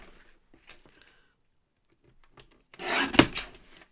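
Paper trimmer or blade cuts down a 5x7 recycled greeting card, a short scraping, rasping slice near the end after faint handling noises, close and fairly quiet.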